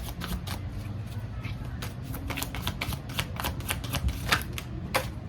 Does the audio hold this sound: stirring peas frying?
no